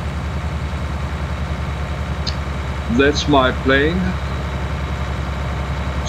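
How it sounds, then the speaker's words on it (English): A tractor engine in Farming Simulator 19 hums at a steady, even idle throughout, with someone speaking briefly over it midway. "watch this tractor's working"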